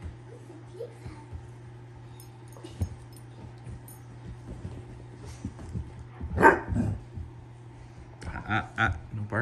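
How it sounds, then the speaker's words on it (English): A 4.5-month-old Irish Setter puppy gives a few short indoor barks and yips, loudest near the end, over a steady low hum, with quiet talking in between. "No barking."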